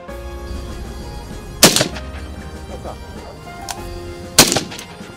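Gunfire at a shooting range during Nigerian Army testing of ballistic materials: two loud, sharp single shots a few seconds apart. Each shot has a short echoing tail over a steady low background hum.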